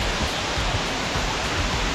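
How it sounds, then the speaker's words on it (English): A constant roaring rush of falling water, broad and unbroken, a waterfall in northern Thailand heard up close. "You never get tired of seeing waterfalls like this."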